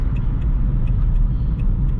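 A car rolls into the National Trust car park at Silbury Hill near Avebury, with a steady, close low engine and road rumble and faint, regular ticking running throughout.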